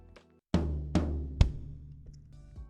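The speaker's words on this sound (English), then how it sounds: "So 2 notes on the floor tom and 1 note on the bass drum." Two deep strikes on a drum kit's floor tom followed by a single bass drum kick, three close, loud hits evenly spaced with a booming low ring trailing after.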